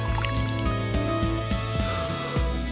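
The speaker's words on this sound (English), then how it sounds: "The smooth liquid chocolate now gets poured into molds the exact shape of a chocolate bar." Smooth liquid chocolate pouring into chocolate-bar-shaped molds in a factory, giving a steady wet drip and squish over constant machine hum, with repeated soft pulses as each mold fills.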